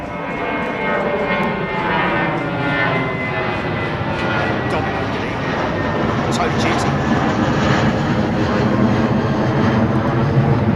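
A Boeing 777-9 jet airliner at London Heathrow gives off a loud, continuous engine roar that swells slightly toward the end, with speech mixed in underneath.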